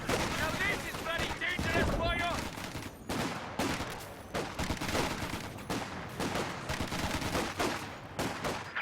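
Machine gun fire in a Company of Heroes 2 2v2 match: rapid bursts mixed with other gunfire and battle noise, loud and nearly continuous from start to finish.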